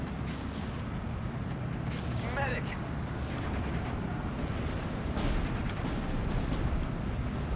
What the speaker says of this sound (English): 25-pounders firing over here at this Panther and at the anti-aircraft unit